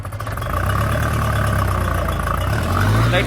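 A Farmtrac 6055 tractor engine idles nearby with a steady low rumble and some mechanical rattle, running alone without speech.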